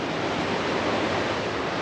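Waterfall near Halls Gap in the Grampians, Victoria, a steady, close, broadband rush of falling water with no breaks, heard alone without talk.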